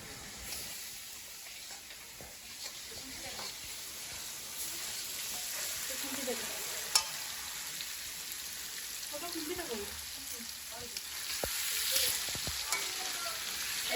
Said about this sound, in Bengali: একটা মাংসটাকে ফ্রাই করা হচ্ছে দই কাতলার জন্য